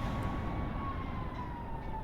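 A police car siren sounds in the video game This Bed We Made, a steady wailing tone that holds at moderate distance over a low rumbling background, with no voices.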